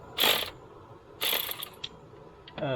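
A hand ratchet loosening a part on a 1991 GMC truck gives two loud bursts of rapid clicking, then a few softer clicks and a short scraping sound, all close and with no talking.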